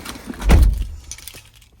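Two sets of keys for a 2018 GMC Sierra 1500 SLT pickup jangle close by in one brief metallic shake, followed by a few faint clinks as they settle.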